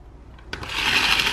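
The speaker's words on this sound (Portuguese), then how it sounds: "Se você não tiver uma batedeira dessa aqui em casa, igual a gente tem aqui, olha, ela liga de verdade" A small toy electric hand mixer switches on after a quiet moment and runs with a steady buzzing whir that grows slightly louder.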